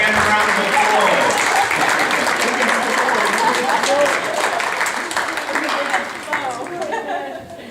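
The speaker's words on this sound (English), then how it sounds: "Round of applause." Guests at a VIP reception break into strong clapping and cheering that gradually fades, with voices talking over the noise as it dies down.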